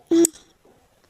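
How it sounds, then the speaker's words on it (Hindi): A phone rings with one short electronic tone burst, fairly clear, followed by near silence. "आपका फोन रिंग कर रहा है"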